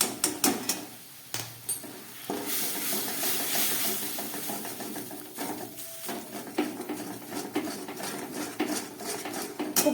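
Stirring spices and turmeric powder with green chilli in a pan for a Bengali dhokar dalna, with a steady frying hiss and repeated scraping and clinking of a spoon against the pan, loud and close.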